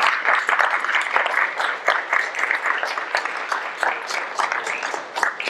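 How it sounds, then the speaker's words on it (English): A school community meeting with an elementary principal and parents breaks into a round of applause: dense, steady clapping from many hands for the full few seconds, fairly close and with no talking over it. "I would appreciate if we all just gave him a round of applause"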